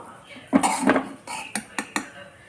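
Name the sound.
covering a pan with a lid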